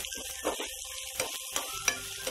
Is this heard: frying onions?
yes